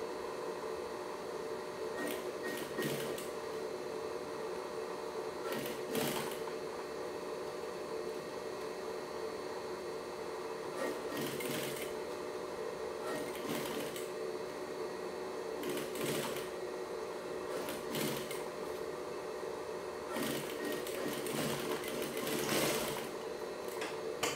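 A sewing machine keeps up a long, steady hum as it stitches all around a fabric pouch, quiet throughout, with small clicks and brief bursts where the fabric is adjusted.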